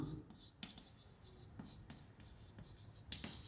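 A marker scratches across a board as an enclosing loop is drawn for a physics lesson, with short rubbing strokes and taps while someone talks.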